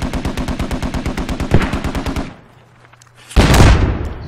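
Gunfire in the Squad video game: a fast, evenly spaced burst of automatic shots, a short lull, then a single heavy, loud mortar-like blast up close.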